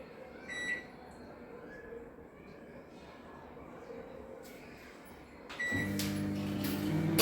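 A soft clunk and rustle as food is set inside an oven, then the steady low hum of the oven starting, with faint background noise.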